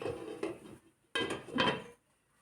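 A metal lid is set onto a pot of prawn and raw mango curry with two quick clanks and a brief scrape nearby, then the kitchen goes quiet.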